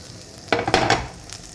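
Butter hitting a hot non-stick pan over a gas flame gives a short burst of close sizzling that swells and fades within about a second, with no talking.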